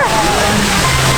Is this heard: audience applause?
no